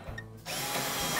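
Short burst of a power drill driving screws into a Whirlpool dryer front panel, a brief click followed by a steady close whir, with no talk.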